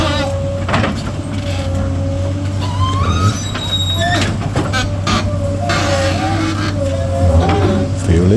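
A Sany SY215C-9 excavator digs into dry ground, its loud, steady diesel drone running the whole time with rising and falling hydraulic whines layered on top.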